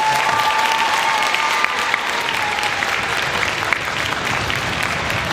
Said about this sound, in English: How about a round of applause for our composer,